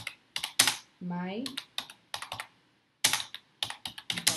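Quick bursts of clicks from a computer keyboard as a menu name is typed in the WordPress admin area, close and crisp with short gaps between groups of keystrokes, and a brief spoken word in between.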